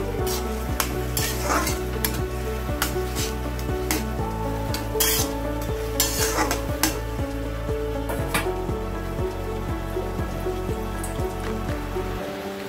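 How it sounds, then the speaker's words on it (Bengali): Bottle gourd stirred with salt and turmeric in a hot pan, a steady loud sizzle under rhythmic scraping strokes of the spatula against the pan, close and continuous, with no voices. "ভালো করে আমি লাউর সাথে মিশিয়ে নেব। এখন আমি গ্যাসের হিটটা বাড়িয়ে দিয়েছি।"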